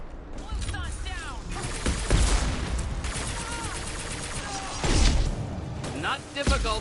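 Gunfire in Mass Effect Legendary Edition combat, a dense stream of shots and impacts with louder bursts near the two-second and five-second marks, running under ongoing game voices and talk.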